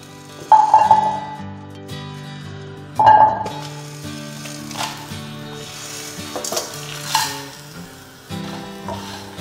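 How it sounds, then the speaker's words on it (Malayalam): Coriander seeds and dried chillies dry-roasting together in a pan, with a soft sizzle and scraping stir strokes that swell in a few bursts over a steady tonal background. "നമുക്കിതെല്ലാം കൂടി ഒരുമിച്ച് വറക്കാം"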